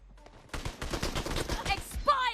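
Rapid automatic gunfire in PUBG Mobile, a fast burst of sharp shots close by, ending with a brief ricochet-like whine.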